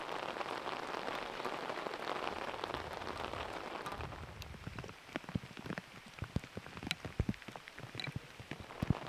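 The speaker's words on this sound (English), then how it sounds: "And the rain is on." Steady rain pours down on a disc golf course during a final round, a dense hiss at first that thins into scattered, distinct drops patting nearby surfaces.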